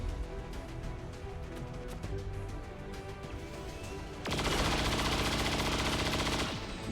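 A soldier fires at a turret in XCOM 2: a loud, dense burst of rapid automatic gunfire lasting a few seconds, following a stretch of background music.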